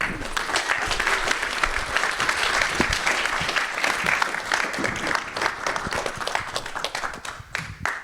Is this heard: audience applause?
yes